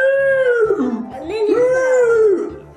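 A person imitates an elephant trumpeting, the voice swooping and wavering for nearly three seconds like a horse's whinny, loud and close with no other talk.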